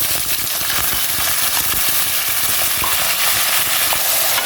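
Chopped onions frying in a pan as the start of a chicken stew, with whole peppercorns and warm spices, giving a steady loud sizzle throughout, broken by occasional stirring scrapes, no voices.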